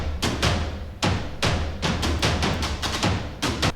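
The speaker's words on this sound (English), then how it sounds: "Just like the classic kind of orchestral type of percussion." Orchestral-style percussion from the Damage sample library, heavy booming hits and sharp strikes in an irregular rhythm, loud and close with no talking.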